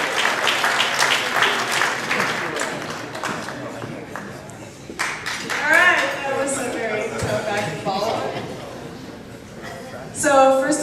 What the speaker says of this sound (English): So if you would please, a warm round of applause as Sylvie has a toast for us here this evening